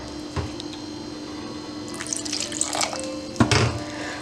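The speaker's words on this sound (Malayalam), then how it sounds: "ഇച്ചിരി വെള്ളം ഒഴിച്ച് കൊടുക്കാം." Water is poured from a tap into flour batter for banana fritters (pazham pori) and then mixed. Faint trickling and splashing build toward a louder wet slosh near the end, close to the microphone.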